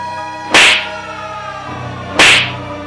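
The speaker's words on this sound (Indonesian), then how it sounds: "Tamparan keras mendarat di pipiku." Two hard slaps on the cheek, delivered as a sharp sound effect, crack out about a second and a half apart. Each is loud, close and sudden over a quiet background bed.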